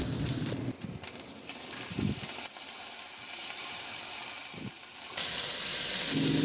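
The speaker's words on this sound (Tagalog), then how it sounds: "Magpainit na ako ng mantika sa kawali at igisa ko na yung bawang." Garlic sautés in hot oil in a pan with a continuous, close sizzle and hiss, broken by a few scraping stirs, and the sizzle swells louder near the end.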